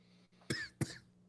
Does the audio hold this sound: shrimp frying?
no